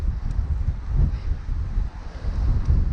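Wind buffets a microphone outdoors in a steady, low, rumbling roar that swells and dips without a break and has no voices over it.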